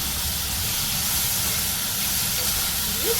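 Tomato chutney ingredients fry in a pan with a loud, steady hissing sizzle that holds without a break.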